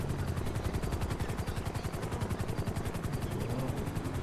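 Helicopter rotor thumping close overhead in GTA roleplay, a loud, steady rapid chop with a low engine drone and no talk.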